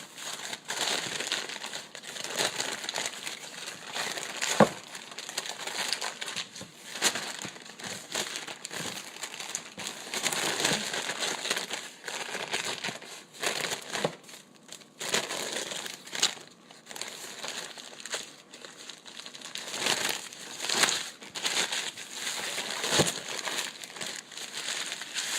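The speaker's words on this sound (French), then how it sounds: "quand on enlève notre papier ciré," Wax paper and plastic wrap crinkle steadily as they are peeled away from a freshly made batch ready for cutting, a continuous close crackling with louder bursts, no voices.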